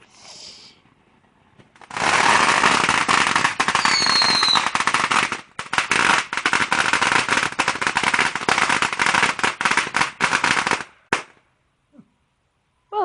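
Neighbors' fireworks and firecrackers explode in a loud, dense barrage of rapid crackling bangs lasting about nine seconds, then stop abruptly and leave near silence.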